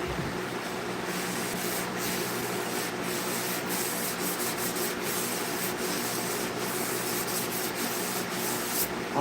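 A hand sander works over a skateboard deck with a continuous, fairly faint rough rubbing hiss and small irregular scuffs, no voices present.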